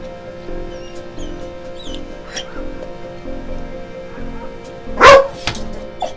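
A small chihuahua in the Off-Peak City video game gives one sharp, loud bark near the end. Quiet chirps and soft game music play beneath it.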